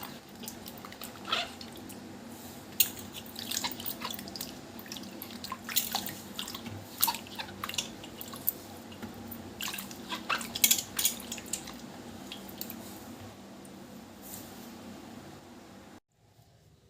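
Raw mangoes being washed by hand in a bowl of water for ginger pickle, with soft splashes, drips and gentle knocks of fruit recurring irregularly at close range and low level, with no talk.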